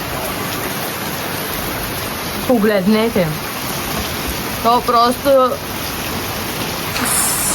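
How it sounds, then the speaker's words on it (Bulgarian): Heavy rain falls steadily outside as a constant broadband hiss throughout, with a few short bursts of speech breaking in over it. "Искам просто да видите колко много вали."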